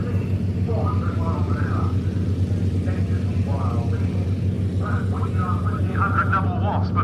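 A Yak aircraft engine starting up at an airfield flying evening, a steady low rumble droning throughout, loud and unchanging, while someone talks over it.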